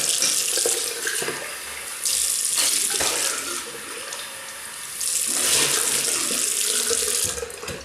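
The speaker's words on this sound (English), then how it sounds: "So, right, so just rinse off." A safety razor is rinsed under a running tap, with a steady rush of water that swells and eases in several waves for about eight seconds, close and loud, with no talking.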